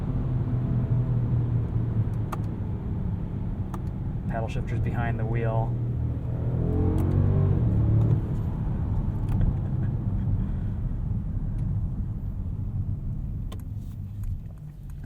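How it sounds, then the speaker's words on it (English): The 4-liter biturbo V8 of a 2021 Mercedes-Benz S580 4MATIC sends a low, steady hum into the cabin during a night drive, muffled by heavy insulation, with someone talking over it. "this 4-liter Biturbo V8 still sounds pretty good"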